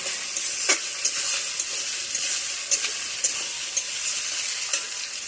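Onion frying in hot tempering oil as it is stirred, a loud, steady sizzle with regular clicks and scrapes of the spoon against the pan.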